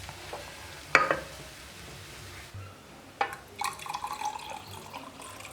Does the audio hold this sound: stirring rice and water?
yes